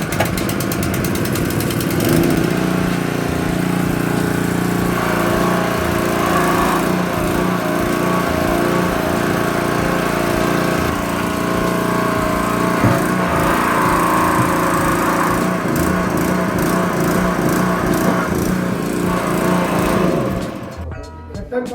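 An engine-powered hydraulic rescue spreader and cutter runs loudly and steadily throughout a rescue demonstration at a Singareni site, a droning motor close by that winds down near the end, with faint talk underneath.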